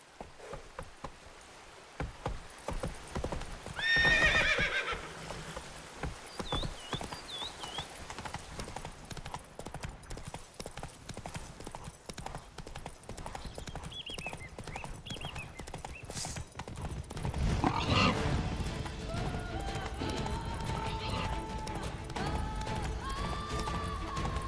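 A horse gallops in the Witcher 3 video game, with rhythmic hoof clip-clops, a whinny and bursts of louder movement; a voice briefly speaks.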